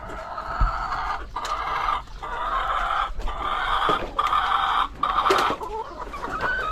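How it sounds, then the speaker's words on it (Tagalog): Several Decal Brown chickens cluck busily and close by, a continuous chatter of overlapping clucks with an occasional louder squawk, no talking. "dito na tayo sa ating mga alagang manok na decal brown"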